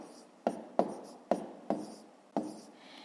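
A pen writes numerals for long division on paper, giving five sharp taps roughly every half second, each followed by a brief scratchy stroke, close and quiet with no talking.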